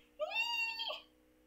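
A single cat meow, clear and close, rising then falling over about a second, with no talk around it.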